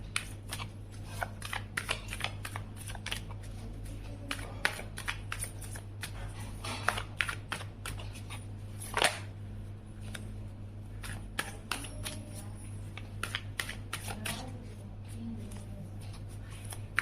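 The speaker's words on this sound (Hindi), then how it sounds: "उनके लिए भी हम कार्ड यहाँ से कलेक्ट कर लेते हैं" Tarot cards shuffled and gathered by hand, a rapid run of soft riffling taps and flicks at close range, steady throughout with a low hum beneath.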